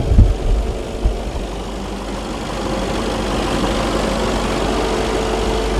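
Steady low engine idle of a Mercedes S63 AMG 4Matic with constant cooling fan and air conditioner whirring layered on top, continuous and close, with a couple of faint knocks near the start.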